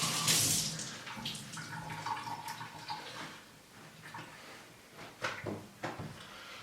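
A damp towel being wrung out over a sink while bread dough rests, with running water from the tap splashing and dripping, followed by a few soft knocks and handling sounds, fairly close and moderately loud.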